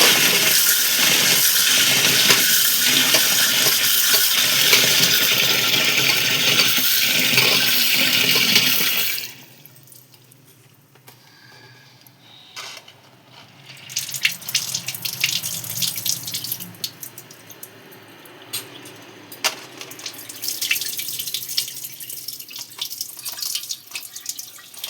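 Soaked black-eyed peas rinsed under a running tap, a loud steady gush of water for several seconds, then quieter sloshing, swishing and dripping as the peas are stirred and washed.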